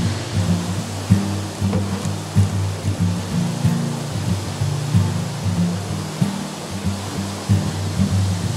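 A waterfall in New Zealand roars in a broad, steady rush, close and loud, with low rumbling surges beneath the spray.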